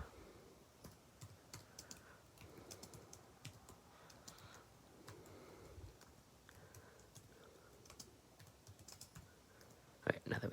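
Light typing on a computer keyboard, a quiet, steady patter of key clicks in uneven bursts, faint and close, with a louder clack near the end.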